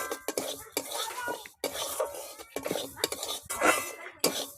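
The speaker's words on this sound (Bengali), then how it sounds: "এবার আমি শুকনো কড়াইতে ডালটা ভেজে নেব।" Mung dal dry-roasting in an empty pan is stirred with a metal spoon, giving repeated scraping and clinking strokes in an uneven rhythm, close and fairly quiet.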